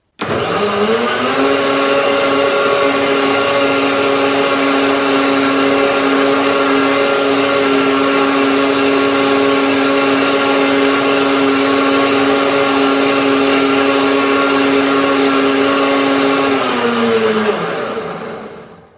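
A blender blending banana, cashew and chocolate milk whirs steadily at high speed for about seventeen seconds, loud and close, then winds down to a stop at the end.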